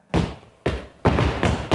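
Heavy feet stomp on a floor, four thudding impacts in an uneven rhythm, loud and close, each with a short boomy decay.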